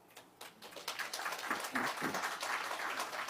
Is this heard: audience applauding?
yes